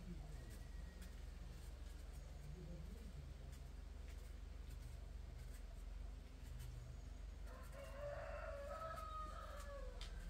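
Chickens clucking at a home farmyard, with a rooster crowing near the end over steady low background hum and a faint voice.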